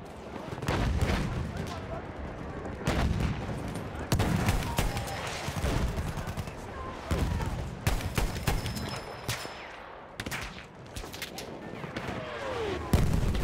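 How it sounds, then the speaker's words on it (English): Mortar and battlefield fire in Battlefield 1, heavy booming impacts and gunfire recurring through a chaotic wartime soundscape, some close and loud, with scattered speech mixed in. "Mortar"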